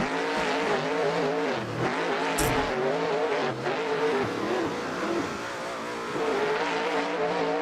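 A race car engine in Assetto Corsa revs hard and steadily, its pitch rising and falling with gear changes, accompanied by a short squeal of tires.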